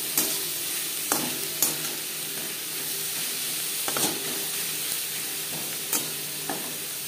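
Onion and tomato with turmeric and salt frying in a pan, a soft continuous sizzle with occasional spatula taps and scrapes at irregular intervals, close and without talk.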